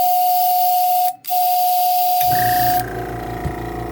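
A steady high-pitched whistling hiss from a Black Widow dual air compressor, briefly cutting out, then giving way to a lower pulsing mechanical drone with a rattling rhythm.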